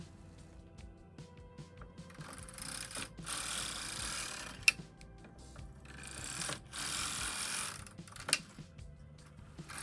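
A vintage Knitmaster Mod 100 knitting machine working rows of Fair Isle knitting, faint mechanical clicks and rasping carriage sweeps in several passes, quiet and close with no voices.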